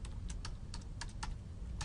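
Quick, irregular clicks of typing on a computer keyboard, near and fairly quiet, coming in short bursts over a low background hum.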